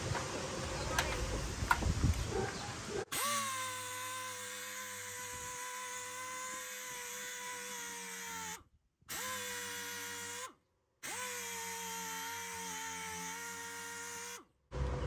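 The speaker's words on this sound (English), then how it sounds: "The dual action also helps keeping you from clogging up sandpaper" A dual action air sander works on camper fiberglass, whining steadily at close range in long runs separated by short pauses, after a brief stretch of rustling handling noise.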